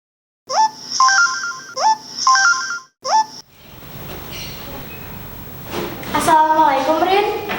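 A phone ringtone trills in three short repeated bursts near the start, clear and loud against near silence, then cuts off into room noise where a voice speaks.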